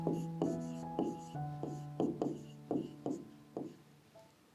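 A teacher writes an answer on the board during an English class, making faint, rhythmic taps and strokes that ring briefly and repeat at an even pace in a quiet room.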